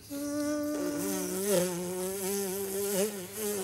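A voice imitates a buzzing fly or mosquito with a close, continuous nasal whine that wavers in pitch for about three seconds and has a few small swoops. No other speech is heard.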